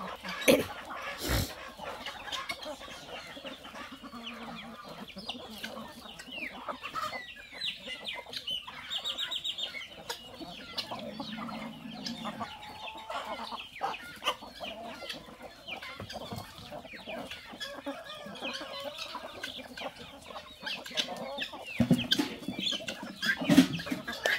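Chickens cluck and murmur on a small farm, moderately near and fairly steady, in a busy outdoor scene with scattered handling noises and occasional faint voices.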